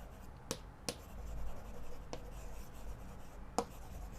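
A pen writes a definition of supplementary angles for a maths lesson, faint scratching strokes under a quiet room hum, with a few sharper taps spaced apart.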